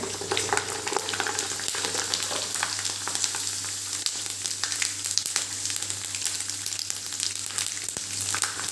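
Sabudana (sago pearls) deep frying in hot oil for farari chevdo, a steady dense sizzle and crackle running throughout at moderate level, close by with no talking.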